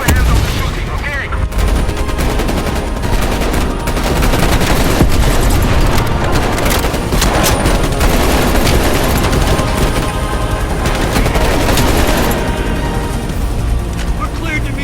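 Sustained, loud helicopter-mounted gunfire in Call of Duty Black Ops Cold War, dense bursts over a constant rotor and engine drone, with voices calling out in the mix.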